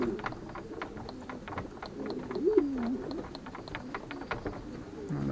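Racing pigeons at a loft, with a single clear cooing call midway over a busy background of soft wingbeats, shuffling and faint bird chatter.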